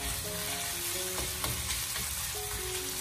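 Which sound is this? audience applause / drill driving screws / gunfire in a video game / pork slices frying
pork slices frying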